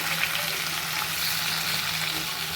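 Freshly cut tomatoes for a tomato thokku are stirred and sautéed in a hot pan, producing a steady, close sizzle with a soft stirring rustle and no voices.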